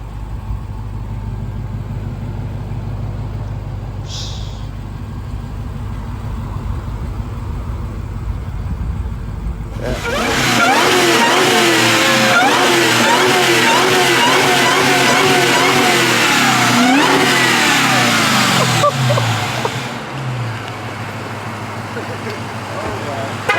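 A 2023 Dodge Challenger Hellcat Jailbreak engine idles at first, then erupts into loud, aggressive revving with rising and falling pitch for about ten seconds before settling back to a rumbling idle.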